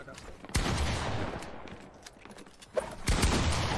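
Gunfire during a Fortnite box fight in a competitive league match, with several rapid bursts of shots at moderate loudness separated by brief pauses, with some background game noise.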